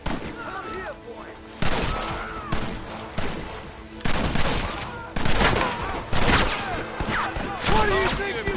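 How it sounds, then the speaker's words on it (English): Rapid Gatling gun bursts in the Red Dead video game, loud crackling volleys in several waves with booming hits, mixed with shouting voices and in-game chatter. "The Gatling gun, use it!"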